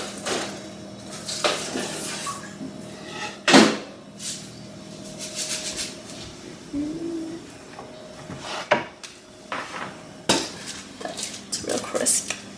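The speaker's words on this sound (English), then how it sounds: "I'm going to be taking the bread out of the oven, toaster oven." Bread being taken out of a hot toaster oven with an oven mitt in a home kitchen: clanks of a metal rack and pan, a thud of the oven door, and scattered rattles and scrapes, with brief talk at moments.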